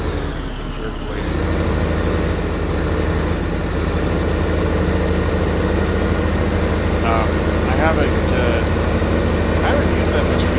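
A tractor engine idles in a farming video game, a steady low drone that runs without a break, with someone talking over it at times.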